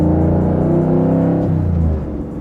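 GM LT4 V8 engine in a 1967 Camaro pro touring build rumbling through a rev, a deep throaty roar held loud and close, then falling back toward idle.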